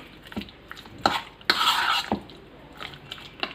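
Chicken manchurian ingredients being mixed in a bowl by hand or spoon: a few soft wet squelches and scraping strokes, some louder bursts, close and fairly quiet, with no talking.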